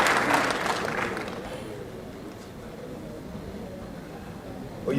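An audience at a Rwandan gathering bursts into applause that rises loudly at first and then fades to a low patter. Voices can be heard beneath the clapping.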